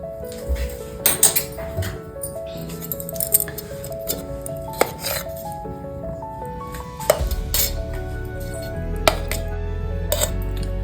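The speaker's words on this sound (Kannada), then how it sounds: "ಒಂದು ಕುಕ್ಕರ್ ಇಟ್ಕೊಳ್ಳೋಣ." While sweet pongal is being prepared, a pressure cooker is set on the stove amid intermittent metallic clinks, taps and clatter of pots and utensils, close and fairly crisp, with a low background rumble in the latter half.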